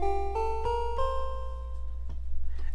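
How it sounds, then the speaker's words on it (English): A synthesizer patch called VHS Triangle plays a few soft, hollow notes that step upward and then sustain and decay, alone over a low steady hum. "I have a patch on here called VHS Triangle, which sounds like this."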